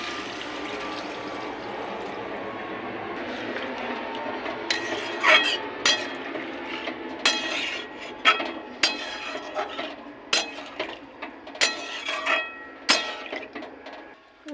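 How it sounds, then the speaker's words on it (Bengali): Water being poured into a pan of potato and pointed gourd curry, a steady rushing pour followed by a series of clanking pot and utensil knocks, close and loud. "এবার দিয়ে দেবো জল পরিমাণ মতো দিয়ে দেবো জল"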